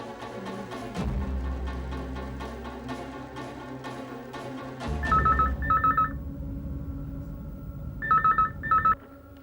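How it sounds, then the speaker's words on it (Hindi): A telephone rings in short repeated bursts, two double rings separated by a pause, heard over a steady bed of dramatic background music in a Hindi TV drama scene. "घनश्याम, बहुत देर हो गई भाई, जरिए के घर फोन तो मिला?"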